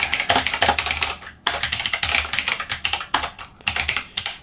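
Fast, continuous typing on a computer keyboard during a Rust programming session gives close, crisp key clatter in irregular bursts with brief pauses between them.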